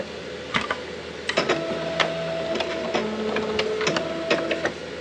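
A Pacific Image PowerSlide X slide scanner runs through a large batch of slides, giving a steady mechanical whir with sharp periodic clicks and shifting motor tones, close by with no talking.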